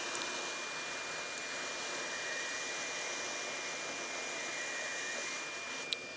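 A Txinlei 8858+ SMD hot-air rework gun blows a steady, close, even hiss of air for the whole stretch, with a faint tick near the start and a brief click near the end.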